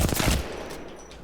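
Flatline rifle gunfire from the video game Apex Legends: a loud, rapid burst of automatic shots at the start that tails off into fading echoes and quieter follow-up shots.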